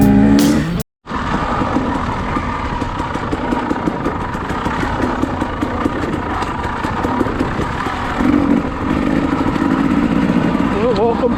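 A 2016 Husqvarna TE250 dirt bike engine runs steadily and loud while being ridden, holding a continuous rough drone for the whole stretch after a brief dropout near the start, with a slight rise in pitch toward the end.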